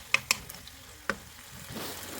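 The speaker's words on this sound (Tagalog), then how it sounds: "Ipagpatuloy lang po ang pagluto hanggat sa lumambot na itong ating kamatis." Onions and tomatoes frying in a pan with salt and pepper as a utensil stirs them: a few sharp metallic taps and scrapes near the start, then a soft, steady sizzle, close and low in level.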